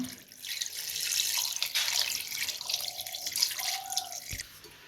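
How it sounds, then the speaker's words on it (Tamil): Water runs from a tap and is poured into a pot of beef sukka being cooked, a steady close splashing stream with small drips, no talk over it. "இப்போ கறி வேகிறதுக்கு தேவையான அளவு தண்ணி சேர்த்துக்கலாம்"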